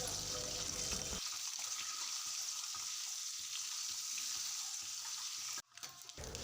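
Boiled eggs fry in hot oil with turmeric and salt, giving a loud, continuous sizzle that holds steady for several seconds before cutting off abruptly near the end.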